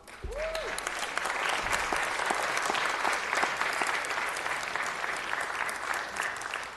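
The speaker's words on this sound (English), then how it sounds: "I think that deserves a big round of applause" An audience at a city council meeting gives a sustained round of applause for students, loud, dense clapping from many hands, with a brief tone at the very start.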